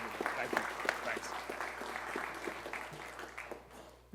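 An audience applauds Louisville Mayor Craig Greenberg at a police promotions ceremony. Sharp individual claps stand out over a low steady hum, and the clapping gradually thins toward the end.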